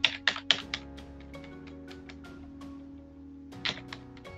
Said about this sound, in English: Oops, that I can't type.